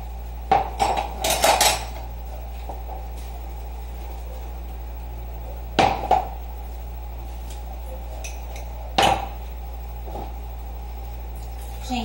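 Pots, dishes and spoons being washed in a home kitchen: three short bursts of clinking and clattering metal and crockery, separated by quieter stretches over a low background hum.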